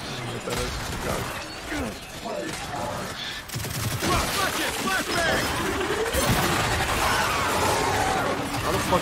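Rapid bursts of tri-shot gunfire in the Gears 5 video game clatter with mechanical, ratcheting weapon noise amid a busy battle mix, while someone talks over the action.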